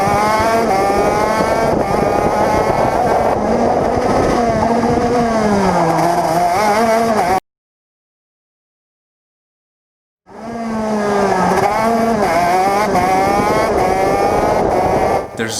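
Onboard go-kart engine during a race, a loud buzzing two-stroke whine rising and falling with throttle through corners, cutting to silence for about three seconds before the revving resumes close up.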